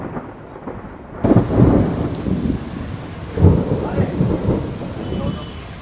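A thunderstorm over Ahmedabad, with rain falling steadily while deep rolling thunder rumbles up twice, close and heavy, over the constant patter.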